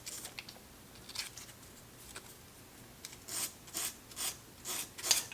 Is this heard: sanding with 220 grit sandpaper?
yes